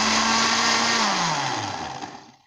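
A juicer-grinder whirs loud and steady while blending a strawberry milkshake, its motor pitch sliding downward as it spins down over the last second and a half.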